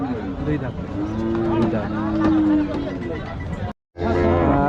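A cow moos in drawn-out, deep calls amid a crowd's chatter and background bustle at a cattle market in Rajshahi, loud and close.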